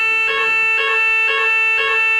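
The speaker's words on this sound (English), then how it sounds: "This was a fire alarm." A fire alarm sounding during a chess tournament briefing at the Reykjavik Open, a loud electronic tone pulsing in steady repeated bursts, close and continuous with no voices.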